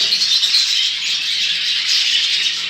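A dense, steady chorus of high-pitched budgerigar chatter fills an aviary continuously, many birds calling at once nearby.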